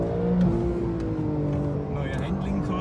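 Porsche 911 Carrera S accelerating on a race track, its engine note climbing steadily and droning loud and close, with a brief shift in pitch partway through.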